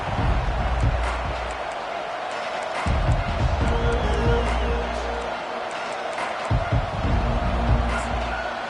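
In the Madden 25 football game, a stadium crowd produces a dense, continuous roar that swells in a few surges, with thumping low-end bursts and no clear speech.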